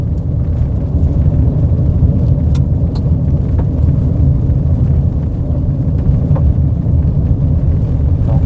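A car rolls along a rough road in Alaska, its engine and tyre rumble a loud, constant low drone with occasional knocks and clatters from the uneven surface, and nobody talks.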